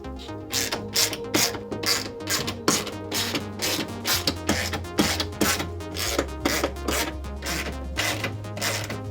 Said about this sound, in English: we can use a 3/8 inch socket to loosen the 6 nuts that are holding the tablet onto the kiosk